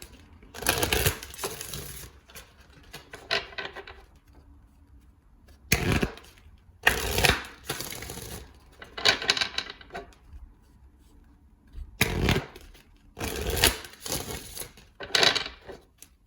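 Goddess Guidance oracle cards are shuffled in repeated quick riffling bursts, each a sharp papery flutter of card stock, separated by short quiet pauses, close and fairly loud with no talking.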